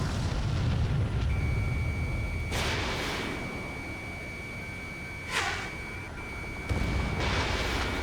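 Explosions destroy a radar vehicle in the combat flight game Ace Combat 7, with two sharp bursts rising over a steady low engine roar and a sustained electronic tone running through the middle.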